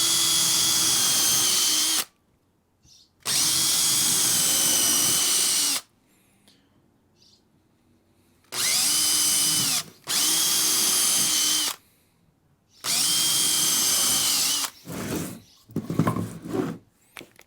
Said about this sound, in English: you really should be drilling pilot holes. So I'll drill all these out now.